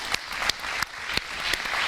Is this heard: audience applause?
yes